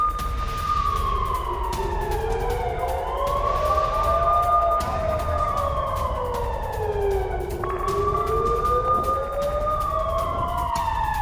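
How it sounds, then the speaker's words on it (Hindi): Air raid sirens near the Gaza Strip wail loudly and continuously, several rising and falling tones overlapping in slow sweeps over a low rumble. "गाजा पट्टी के पास लगातार बज रहे सायरन को लेकर हमास की तरफ से बड़े हमले की आशंका"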